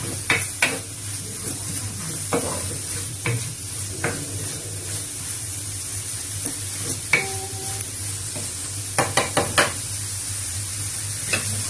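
Onions sautéing in a pan for a mackerel curry in coconut milk, a steady close sizzle broken by sharp scraping and stirring clatters of a utensil against the pan.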